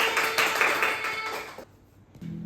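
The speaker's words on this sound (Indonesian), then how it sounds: "Oke, tepuk tangan semuanya." A class of children claps their hands together, a dense burst of fairly close clapping lasting over a second before falling quiet, followed by a faint steady hum.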